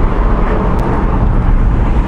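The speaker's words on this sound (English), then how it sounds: "Driving through a built-up area in a Project 7 is one of life's great pleasures" A Project 7 sports car drives through a built-up area, its engine and road noise a loud, steady roar heard from inside the car with no break.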